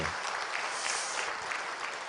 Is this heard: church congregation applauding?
yes